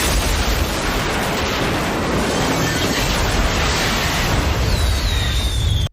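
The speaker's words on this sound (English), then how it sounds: "Troy is forced to crash into a hangar" Film scene of a plane crashing into a hangar, a loud, dense, sustained roar of explosion and wreckage filling the whole stretch before cutting off abruptly at the end.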